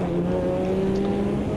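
A race car in the Automobilista 2 sim racing game holds a steady, loud engine drone at constant pitch while driving around a track, close and alone without talk.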